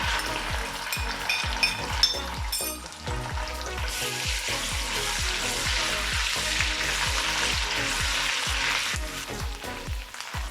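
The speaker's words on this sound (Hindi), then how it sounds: "अब इसमें अदरक लहसुन का पेस्ट डाल देंगे और इसको 1 मिनट के लिए दोबारा फ्राई कर लेंगे" Ginger garlic paste sizzles and crackles steadily in a hot pan, with repeated scraping stirs and a brief clatter near the start, loud and close.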